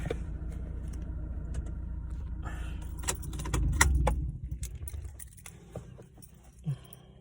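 A car's engine rumbles steadily, then cuts out about halfway through. Keys jangle close by in bright bursts while the motor runs and shuts off, followed by a few soft handling knocks.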